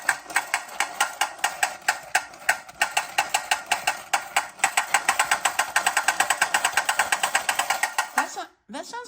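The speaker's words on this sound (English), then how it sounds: "That sounds like the same clicker they would have used in a machine gun." Astro Boy racer toy from the 1960s rattling its clicker mechanism in a fast, steady machine-gun-like stream of sharp clicks, close and loud, stopping abruptly near the end.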